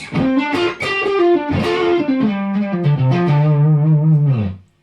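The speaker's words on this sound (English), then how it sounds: "the drive channel on the Lone Star, which sounds" An electric guitar through the drive channel of a Lone Star amp plays a short melodic phrase of sustained, bending notes with overdriven crunch that ring out and then fade.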